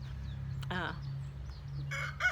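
A pet chicken squawks close by in two short, harsh bursts, a brief cry near the start and another at the end, over low steady background hum.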